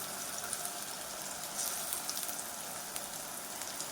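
Spice paste frying in a pan for a mutton curry, a steady soft sizzle and crackle with faint popping, heard alone and continuing throughout.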